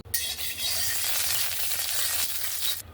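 Oil heats in a wok before eggs go in, a bright, close, crackling sizzle that starts abruptly and holds steady for a few seconds before cutting off.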